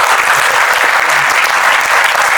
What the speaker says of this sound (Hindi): एक बार जोरदार तालियां हो जाएं फिर से।